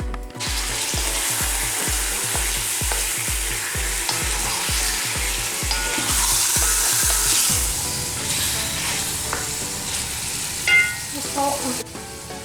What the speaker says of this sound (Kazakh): Бірінші окорочканы, оның үстіне красный перец саламыз, одан кейін морковь, содан кейін картоп.